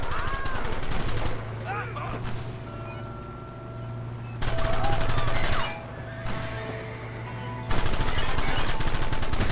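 Gunfire in the Western video game Red Dead Redemption, dense bursts of rapid shots in three loud stretches separated by quieter gaps, with a horse whinnying and shouted voices mixed in.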